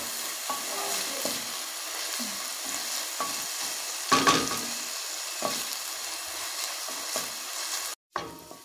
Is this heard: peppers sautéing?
yes